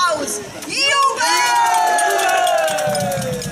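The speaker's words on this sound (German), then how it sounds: "Jubel!" A festival crowd cheers loudly at a fair in Schifferstadt, a sustained swell of voices with a brief voice rising above it near the start.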